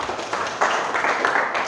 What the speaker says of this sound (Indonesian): tepuk tangan untuk Irfan.